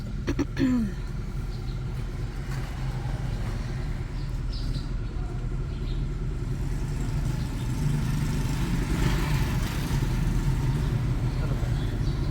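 A car engine runs at a low, steady rumble, fairly faint and even throughout, with occasional voices over it.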